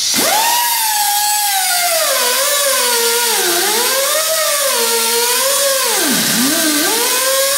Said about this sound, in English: We're going to use a cutoff wheel to cut these off